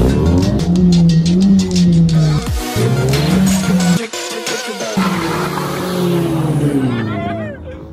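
A truck passes by on a street, giving a loud, close engine roar that rises and falls with a throaty drone. A person shouts over it throughout.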